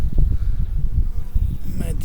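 Low buzzing of honeybees on a hive frame hums close by, steady and droning, with a faint rustle near the end.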